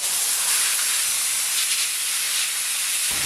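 Constant loud rushing hiss of sandblasting through a newly fitted engineered blasting nozzle, used to strip a customized Isuzu frame, steady and close without pauses or voices.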